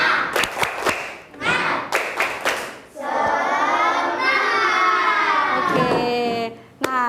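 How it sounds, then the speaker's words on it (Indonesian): A classroom group of children does a rhythmic spirited clap chant, a burst of sharp claps in quick patterns followed by sustained voices chanting together, loud and close. "kita tepuk semangat dulu ya"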